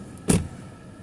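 A car door thumps shut once, close and brief, with a faint whir of a power window around it, outdoors beside a military air base.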